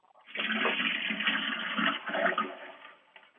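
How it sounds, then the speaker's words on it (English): A toilet flushes nearby with a loud rushing gush of water lasting about three seconds and tapering off at the end, with no talking over it. "let's see if it flushes"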